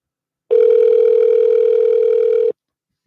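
A single steady telephone tone about two seconds long, loud and clean against silence, as a call is placed to a scammer.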